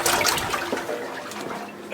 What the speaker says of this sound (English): Just fill it up with some water.